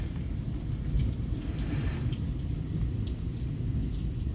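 Heavy rain pours steadily during a Michigan thunderstorm with frequent lightning, a dense continuous hiss with faint low rumbles underneath, no voices present.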